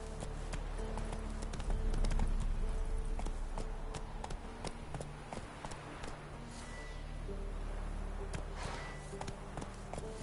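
Roach, the horse in a video game, gallops in a steady rapid clip-clop rhythm of hoofbeats, moderately close, lasting throughout.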